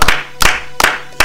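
Worshippers clap in unison during a French-language church service, four loud, evenly spaced claps at a steady beat in a reverberant room.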